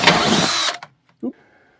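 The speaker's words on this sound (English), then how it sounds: "Just going to clean up the hole with a larger drill." A power drill with a larger bit enlarges a hole in a Dometic three-way fridge door latch. It makes a loud, close whirring burst that cuts off abruptly after a moment, followed by a short knock and near silence.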